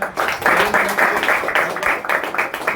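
Audience applause at an eleventh-anniversary celebration of a coaching class, a dense, steady burst of many hands clapping for nearly three seconds with no voices over it.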